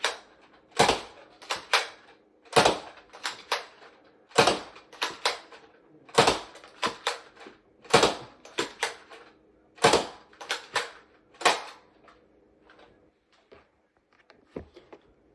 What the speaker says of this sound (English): Let's get into a firing demo. So starting out with the Nitroshot darts.